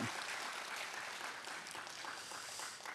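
Applause from a church congregation at a Friday prayer service in Daegu, a steady wash of clapping held at an even, moderate level throughout.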